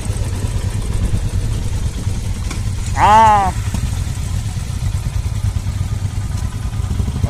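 Several Kawasaki Z900 superbikes idle together on a road trip into Goa, their low engine rumble steady and close throughout, with a brief spoken word cutting in midway.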